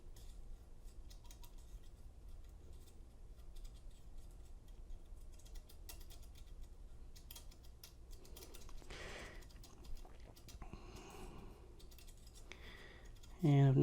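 Sargent lock being picked with a Lishi tool, giving faint rapid ticking and light metallic clicks close up in a quiet room, with a louder handling noise near the end and no speech.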